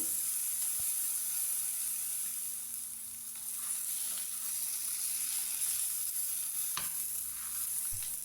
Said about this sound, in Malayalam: ചട്ടിയിൽ കുറച്ചും കൂടി എണ്ണ വെച്ച് തിരിച്ചും മറിച്ചൊക്കെ ഇട്ട് നമുക്കിതൊന്ന് വേവിച്ചെടുക്കണം ചെറിയ തീയിലിട്ട്